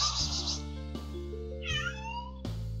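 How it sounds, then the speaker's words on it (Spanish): A cat in the Sakura Swim Club visual novel meows, with a short, bright call near the end and a fainter one at the start, over steady low background music. "Upa, Mecha, ya quieres comer este gato."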